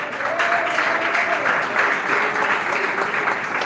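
A church congregation claps steadily in praise during a worship service, a dense, continuous wash of many hands with a faint sustained tone beneath it.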